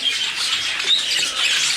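Chick calling from inside its shell in an incubating nest shortly before hatching, a continuous high, thin peeping and squeaking, close and fairly loud, with no talk.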